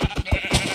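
A sheep bleating in Minecraft: one short, wavering bleat, loud and close, heard on its own.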